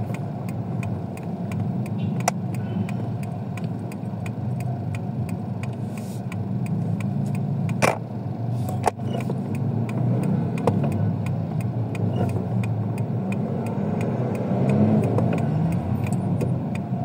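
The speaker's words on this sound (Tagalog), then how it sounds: "Napaka-traffic." Inside a car in heavy traffic near SM North, a steady low engine drone and road rumble fill the cabin, with a regular ticking like an indicator and a few brief knocks, no voices.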